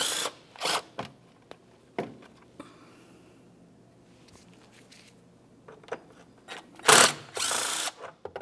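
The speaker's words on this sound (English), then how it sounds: "we'll use a 10mm socket along these two bolts" Socket wrench loosening engine cover bolts on a 2004-2015 Nissan Titan, with sharp broadband bursts of ratcheting and tool clatter at close range, separated by quieter handling noise and a loud cluster near the end.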